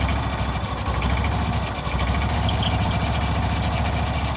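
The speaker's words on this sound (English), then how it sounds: "throttle's hitting the choke right now. And she's surging a bit." A derelict John Deere Gator engine idles with the throttle against the choke, a loud, steady rumbling drone with slight surging and vibration, close up and with no voices.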